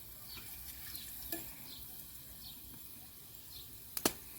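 Chilli chicken with green chillies frying in a clay pot, a soft steady sizzle broken by a few light utensil clicks and one sharp knock near the end, with no talking.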